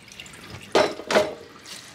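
Boiled peas being drained: water pours off in two short, splashy bursts close by, with faint dripping between them and no talking.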